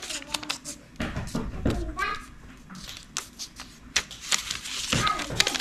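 Paper being folded into a spinning top, with crisp creases and rustling in quick irregular bursts close to the mic, mixed with a voice talking throughout.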